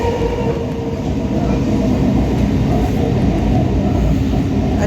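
Inside a passenger train on a suburban line toward Howrah station, a loud steady rumble of the carriage with rhythmic rattling and clacking of wheels, continuous and close, with no talking.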